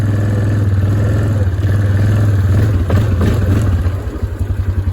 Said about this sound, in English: This thing's kind of heavy for the four-wheeler. Gotta make a wide turn.